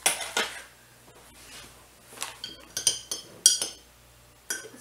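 Spoon stirring salsa in a jar, a quick series of close, light scraping clinks of metal against glass in uneven bursts, with short pauses between strokes.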